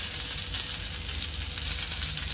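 Curry leaves dropped into hot oil with mustard seeds and sliced onion for a sardine, drumstick and mango curry tempering, making a loud, dense, continuous crackling sizzle heard close up and alone.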